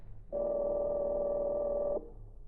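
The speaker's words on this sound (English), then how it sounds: "I have the number of Fender's hotel room. Perhaps I can catch him there now" A telephone being dialed in an old-time radio drama: a single steady electronic tone about a second and a half long, close and alone, with a faint background before and after.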